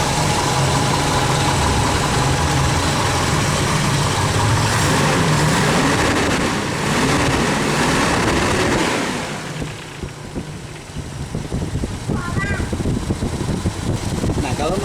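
A car engine runs loud and steady, its pitch rising and falling as it is revved, then drops to a quieter idle with some background noise.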